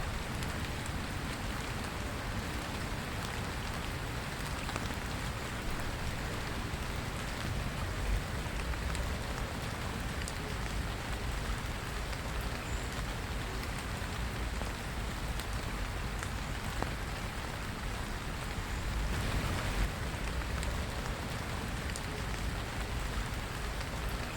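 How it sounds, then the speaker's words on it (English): Steady rain patters continuously on surfaces near dusk at a UK beaver site, a soft, even hiss of drops that persists without pause. "But it's still raining."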